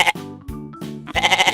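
Loud, near goat bleats come in a series of quavering cries with short gaps between them, the last call stretched and vibrating. No one speaks.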